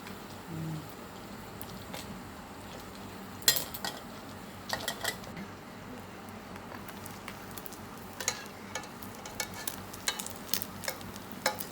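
Pieces of fish frying until golden and crisp in a pan of hot oil, a faint steady sizzle with scattered clinks and taps of a utensil stirring and scraping the pan.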